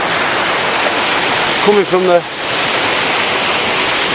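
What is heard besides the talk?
waterfall at Crummock Water, Lake District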